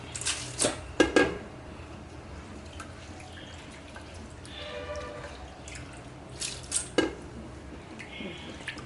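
Kavuni rice is rinsed in water in a kitchen to wash out stones and grit. Soft sloshing and dripping run under sparse sharp clinks and splashes from a vessel, all close and fairly quiet.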